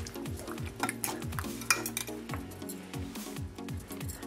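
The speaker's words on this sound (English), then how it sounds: "Then we're going to mix them." Cracked egg, pepper and salt being stirred into raw chicken pieces in a bowl for fried chicken, with repeated wet stirring and clinking of a utensil against the dish, steady and close.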